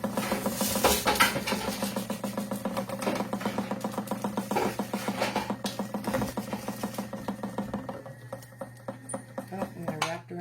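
Domestic sewing machine stitching a fabric strip, a fast steady run of mechanical clatter with a constant motor hum, close and fairly loud, easing slightly toward the end with a few light clicks.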